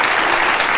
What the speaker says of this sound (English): They're clapping for him.